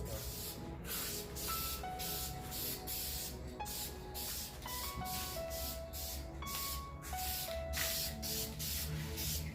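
Steady, close hiss of a spray can laying a light polyurethane coat onto a 1996-2001 Honda Prelude lip kit, with short pulsing passes and faint background music under it.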